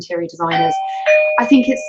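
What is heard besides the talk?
Ring doorbell chime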